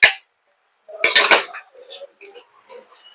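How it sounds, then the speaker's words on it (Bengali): Metal spoon scraping and clinking against a cooking pot while turmeric and coriander powder are stirred into a yogurt-based dish: a sharp clank, then a quick cluster of rattling strokes and lighter taps, close up. "এই দেখুন আমি হলুদ গুঁড়ো আর ধনে গুঁড়োটা দিয়ে দিয়েছি, ঠিক আছে। এটা একটু ভালো করে আপনারা নাড়িয়ে নেবেন।"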